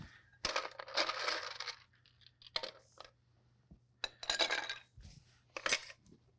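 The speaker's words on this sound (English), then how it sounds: "Now let's get some ice in that mixing glass." Ice cubes clatter into a cocktail mixing glass in several separate bursts, rattling and clinking against the glass with quiet pauses between scoops, close and fairly loud with no talking.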